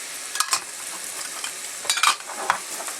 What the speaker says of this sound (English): Now what I'm gonna add is the chorizo.